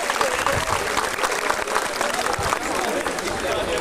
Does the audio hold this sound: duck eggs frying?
no